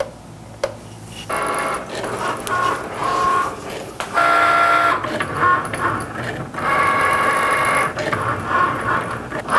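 A Cricut Maker cutting machine works on a small card stock card, giving a steady mechanical whirring and buzzing with short pauses and changes in tone as the carriage moves, close and fairly loud.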